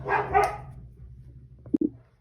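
A dog barks in the background: two quick, moderately loud barks open the clip, then two short, sharper barks come near the end over faint room noise.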